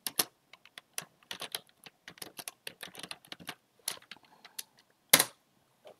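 Rapid, uneven keystrokes on a computer keyboard as program code is typed, close and clear, with short bursts and pauses and one louder sharp clack near the end; no talking.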